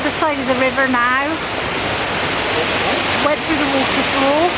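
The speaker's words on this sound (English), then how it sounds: "Went through the waterfall." The Sgwd Yr Eira waterfall in South Wales roars as a loud, close, steady wash of falling water, with a voice talking intermittently over it.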